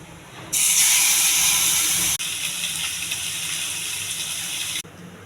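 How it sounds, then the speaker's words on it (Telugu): Fish frying in a pan with little or no oil, a loud bright hiss that starts abruptly, briefly cuts out, then continues steadily before stopping, close by with no talking. "చేప ఫ్రై తయారు చేస్తున్నానండి."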